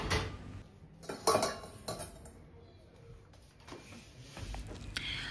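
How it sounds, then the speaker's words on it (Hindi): Stainless steel utensils and dishes being unloaded from a dish rack in a home kitchen, with repeated metallic clatters and clinks at irregular intervals, fairly close, loudest in a few sharp knocks. "यहाँ पर ना पहले मैं डिश रैक खाली कर दूँगी।"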